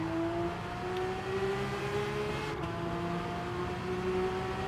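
A 992-generation Porsche 911 GT3 RS in Gran Turismo 7 holds a loud, steady engine drone with a rising tonal whine as it accelerates, close and continuous, with no talking.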